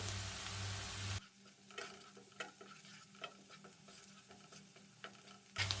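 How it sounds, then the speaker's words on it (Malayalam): Onion sautéing in a pan for stuffed eggs, a soft steady sizzle broken by repeated scraping stirs and light clicks of a spoon against the pan, with louder bursts of sizzle at the start and the end. "ഇത് നന്നായി വഴറ്റിയെടുക്കാം."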